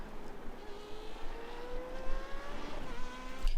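A simulated F3.5 open-wheel race car at the Nürburgring GP circuit in iRacing accelerates steadily, its engine note climbing in pitch as it pulls out of a corner, fairly quiet with no talk.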